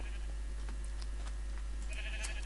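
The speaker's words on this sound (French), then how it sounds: "oh saloperie de mouton" Sheep bleating in the Minecraft video game, a couple of short bleats over a steady, constant game background, moderately loud with no talking.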